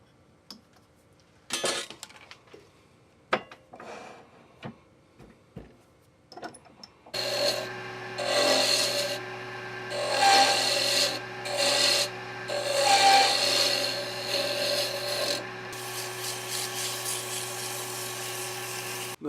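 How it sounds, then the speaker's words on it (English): Hand-sanding a wooden baby rattle handle: a few scattered short rubs and taps at first, then sustained rhythmic rasping strokes of sandpaper on wood, close and fairly loud, with a steady machine hum beneath. "Now I'm sanded to 320, but I think I want to go up to 600"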